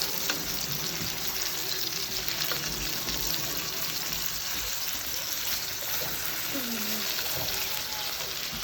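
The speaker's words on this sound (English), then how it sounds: "You're looking for a nice brown on either side, just to lock in the juices and the flavors." Meat searing in a pan for carne asada stew gives a steady, fairly loud sizzle throughout, with faint background noise and no clear talk over it.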